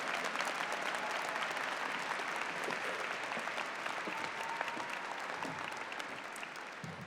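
A graduate commencement audience at Adelphi gives a sustained round of applause, dense crowd clapping at an even level that slowly tapers toward the end.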